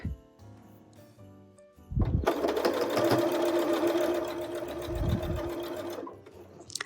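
Sewing machine stitching fabric for a quilted holiday mug rug, a steady mechanical whir running for several seconds after a quiet start, close and fairly loud, with soft handling sounds before it.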